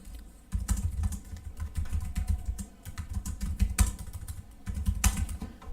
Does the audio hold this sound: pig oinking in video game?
no